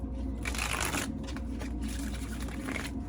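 Tarot cards shuffled steadily for about three seconds, a dense continuous riffling close by with repeated bursts of papery flutter and no talking.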